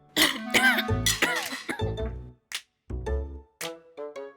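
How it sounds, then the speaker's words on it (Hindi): A person coughs and clears their throat several times in short, harsh bursts, close and fairly loud, with brief pauses between fits. "खांसी हो गई थी है ना?"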